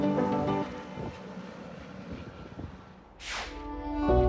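A helicopter ferrying equipment to an alpine hut in Berchtesgaden National Park, near the Austrian border with Germany, drones with a steady rotor and engine hum, with gusts of wind and a brief rushing swell near the end.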